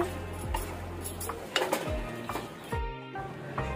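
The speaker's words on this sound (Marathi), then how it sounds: "हलवून घेऊया।" A spoon stirring chicken sukka masala in a metal pan, scraping and clinking in uneven strokes against a faint sizzle, close and fairly quiet.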